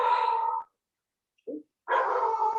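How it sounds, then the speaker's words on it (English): A pet dog indoors barks loudly and close by: one long bark, a brief yip after a pause, then another sustained bark. "Excuse my dog, she's going crazy."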